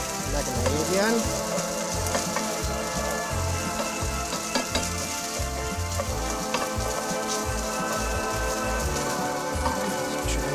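Bacon and garlic frying in a pan, a steady loud sizzle and crackle close up with occasional stirring clinks, and a voice speaking faintly underneath.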